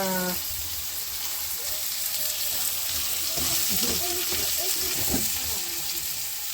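Ginger frying in a pan in a village kitchen in Darjeeling, a constant sizzle with scattered crackles and some faint background noise.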